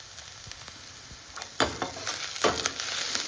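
Mushrooms and peas sizzle in a frying pan with onions, a close hiss that swells in two bursts as food is stirred or added, then settles into a steady fry with no talking.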